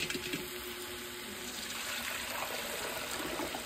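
Water pours steadily into a cooking pot for rice in an outdoor wood-fired chulha kitchen, a continuous close splashing fill lasting a few seconds with no talk.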